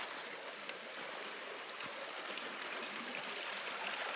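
Along the Hopper House Trail at Cherry Springs, a stream flows with a soft, steady rush of water, faint and continuous with no voices.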